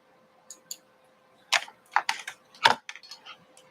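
Scattered keystrokes on a computer keyboard: a few isolated clicks followed by a quicker cluster of taps, close and clear in an otherwise quiet room.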